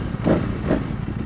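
A Ducati Superleggera V4 motorcycle engine runs steadily and close by, with a rough, throbbing low rumble and two brief swells in the first second; no one talks over it.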